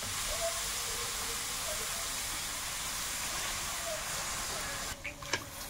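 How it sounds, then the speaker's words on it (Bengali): Prawns frying in a pan hiss in a steady, even sizzle after water is poured in, a continuous close wash of noise that fades slightly at the end, joined by a few faint clinks. "চিংড়িটা একটু ভেজে নিলাম, এবার জল দিয়ে দাও।"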